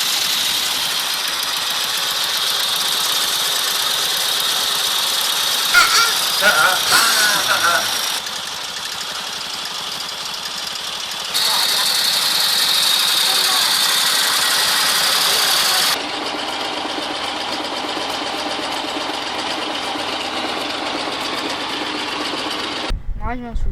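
An old engine runs steadily in a 1920s–1930s vintage vehicle, a 1922 Morgan Darmont or 1935 Berliet, with a continuous mechanical hum and knocking, and people talking over part of it.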